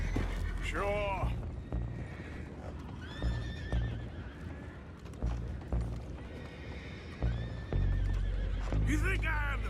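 Horses in the video game Red Dead Redemption 2 whinny in sharp repeated neighs over steady clip-clopping hooves, loud and close, with game voices talking throughout.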